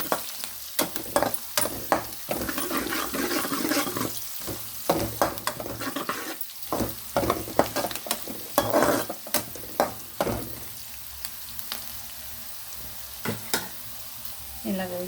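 Oil for a brinjal and tomato curry sizzles steadily in a pan as a pinch of turmeric goes in. Repeated scraping and clattering stirring strokes sit up close, and the sizzle carries on alone in the quieter gaps.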